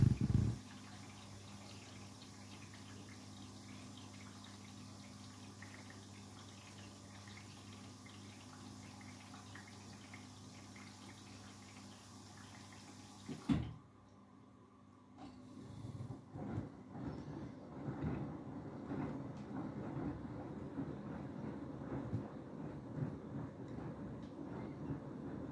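A Beko WTK104121W washing machine runs through a cool-down cycle, giving a steady low mechanical hum with a brief thud partway through, after which the sound turns into looser sloshing and rumbling.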